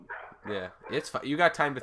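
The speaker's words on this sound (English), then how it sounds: "Sorry about the dogs." Dogs bark and yip close by in short overlapping bursts while a person talks over them indoors.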